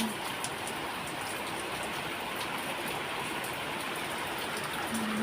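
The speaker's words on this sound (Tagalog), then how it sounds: "Titigil ang ulan." Steady rain falling outdoors among plants, a continuous dense hiss of drops on surfaces, even and unbroken throughout.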